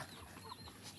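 Farm chickens on a rural Philippine smallholding clucking softly and steadily, with a faint, close, continuous murmur of clucks and scattered higher calls under open outdoor ambience; no one speaks.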